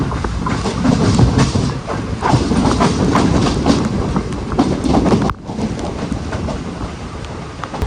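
The 22150 Pune–Ernakulam Superfast Express rolls along the rails, a loud rumbling roar with rhythmic clickety-clack and wind buffeting, briefly dipping before resuming steadily; no talking.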